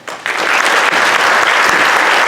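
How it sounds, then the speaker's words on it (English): Audience applause at a middle school winter concert, breaking out sharply after a brief quiet moment and then continuing loud and dense from many hands. "give a quick, before they start, round of applause"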